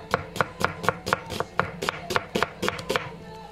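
A knife roughly chops an onion on a cutting board with about a dozen crisp, evenly spaced strikes in a quick steady rhythm, close and clear, then stops.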